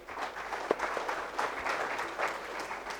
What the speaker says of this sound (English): Please give him a warm round of applause, please.